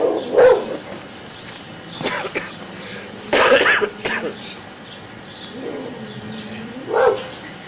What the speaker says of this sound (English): Just puppies.